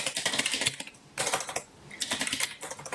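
Rapid typing on a computer keyboard, dense bursts of close, crisp key clicks in three runs separated by short pauses.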